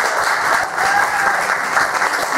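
An audience applauds at a 25th anniversary concert of an Udmurt ensemble in the village of Kislovskoe, giving steady, dense and loud clapping from a large crowd for the full length.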